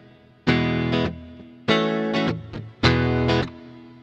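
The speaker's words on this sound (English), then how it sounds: "Hall reverb" Three distorted electric guitar chords strummed one after another through a Zoom 3030 effects unit, each ringing out into a spacious hall reverb before the next begins.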